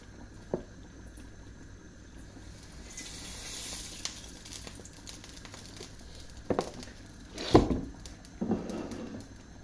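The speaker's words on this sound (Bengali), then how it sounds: "তো আমার এই মিনি কড়াইয়ের মধ্যে আমি বাগারটা রেডি করি," A tempering of dried red chilies, green chilies and chopped garlic sizzles in oil in a mini kadai, making a quiet, steady hiss broken by scattered crackles and one sharper pop near the end.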